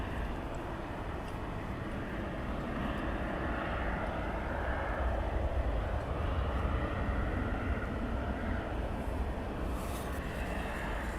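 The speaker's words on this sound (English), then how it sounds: "Departure by FEDEX" A FedEx cargo plane departs East Midlands Airport at night, its jet roar heard from a distance as a broad, steady rush that swells slightly midway and fades on.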